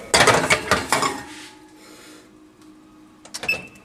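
Muffin tin of homemade blueberry muffins being slid back into a home oven: clattering metal scrapes and knocks up front, a quiet hum, then a brief clunk and a final rattle near the end.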